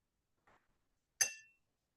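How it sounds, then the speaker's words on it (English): Ice cubes dropped into a tall highball glass: a faint tap, then one bright, close clink that rings briefly and fades, otherwise quiet. "Get a couple of ice cubes."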